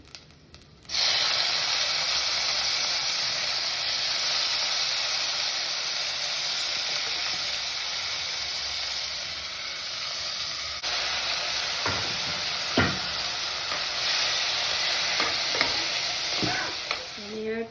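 Tomatoes go into a sizzling tempering in a pan for potato-tomato sabzi. A sudden loud hiss erupts after a moment, then stays steady, with scraping stirs and a few knocks toward the end.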